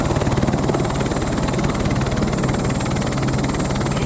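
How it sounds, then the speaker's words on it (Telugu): A helicopter at Yamunotri thumps loudly and close with a steady, rapid rotor beat and engine whine as it lands and departs, with no voices over it. "మన్ని దింపిన హెలికాప్టర్ వెనక్కి వెళ్ళిపోతుంది."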